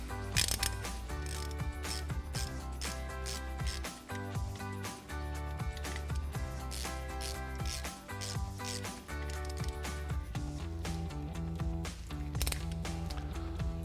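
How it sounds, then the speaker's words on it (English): Ratchet wrench with a 19mm socket tightening brake caliper bolts on a 2014-2018 Silverado/Sierra 1500, rapid steady metallic clicking of the pawl in continuous bursts, close and loud, no speech. "we'll tighten them down with our 19mm socket"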